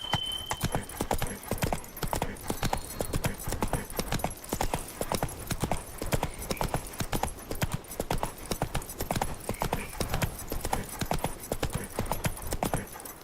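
A horse gallops in The Witcher 3: Wild Hunt, its hooves drumming a fast, steady, loud clip-clop rhythm that runs without a break.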